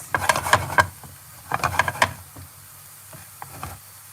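Crisping chickpeas for chickpea chips rattle and crackle in a pan with little oil, coming in two short bursts of clicky stirring followed by quieter scattered pops.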